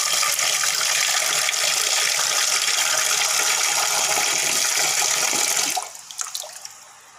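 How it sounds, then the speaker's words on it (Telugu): Tap water runs steadily and loudly while raw chicken is washed under it, the stream cutting off near the end to leave dripping and splashing in a sink. "చికెన్ వాష్ చేశానండి."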